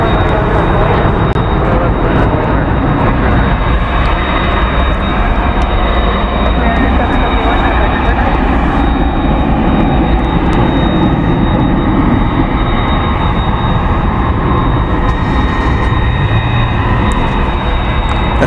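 A Tri-Jet airliner at Dallas Fort Worth airport produces a loud, continuous roar that rumbles steadily throughout, heard from a distance outdoors with no distinct voices over it.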